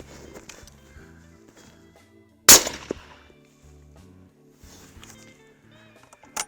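A single sharp rifle shot, suppressed and fitted with a muzzle brake, cracks out mid-way through quiet outdoor surroundings, followed by faint handling noises.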